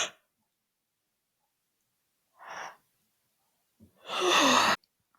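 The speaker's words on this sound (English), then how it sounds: "My eyes start watering when I'm yawning" A person yawns alone in a quiet room: a short breathy exhale, a pause, then one long, loud, drawn-out yawn with a voiced, sighing tail lasting under a second before stopping abruptly.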